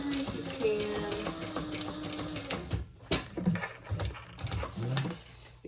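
A sewing machine stitches a small sling bag in short, uneven bursts that stop and start, with a person talking over and between the runs.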